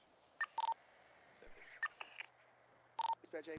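Phone keypad DTMF dialing tones in the GTA V roleplay game NoPixel, several short beeps in small bursts with a pause between them, fairly faint under a soft background.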